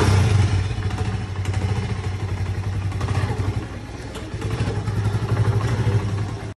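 Steady, rumbling motorcycle engine idling close by at a school in Gujrat, a continuous low throb with clattering overtones and slight fluctuations, holding at a constant level throughout.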